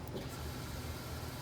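A Honda H22 fuel pump runs after a broken wire is reconnected, giving a steady low mechanical hum and buzz that holds even and unbroken throughout, close and moderately quiet.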